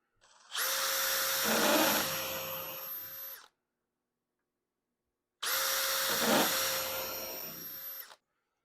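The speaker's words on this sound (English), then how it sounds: "Now the next step is to pre-drill and then nail them home into the Inwales. So I have my preset depth on my drill." A power drill set to a preset depth pre-drills holes into a wooden canoe inwale. It gives two sustained high whirring runs of about three seconds each, with a silent pause between them.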